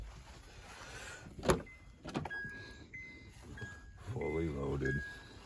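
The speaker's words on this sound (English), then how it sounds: "Got a sunroof." A car's power sunroof motor hums open in a steady whine lasting a few seconds, preceded by clicks and soft cabin noises, with people talking faintly nearby in the vehicle.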